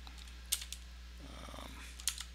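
A few sparse computer keyboard key presses during an Ubuntu install, quiet distinct clicks with long pauses between them over a low steady hum.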